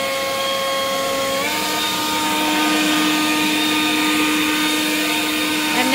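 WORX WG584 40V cordless turbine leaf blower running steadily on speed setting 3, a loud continuous whirring roar with a whining tone that steps up in pitch partway through, no talking.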